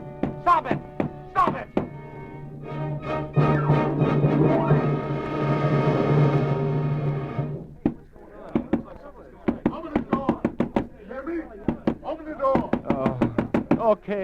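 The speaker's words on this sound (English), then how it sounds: "What's that pounding?" Heavy pounding knocks on a door in a radio drama, loud repeated thumps in irregular bursts, with a stretch of a tense voice speaking between them and more rapid banging afterward.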